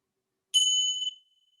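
A single meditation bell is struck for a bow in a Buddhist practice session, ringing bright and clear, then fading quickly into silence.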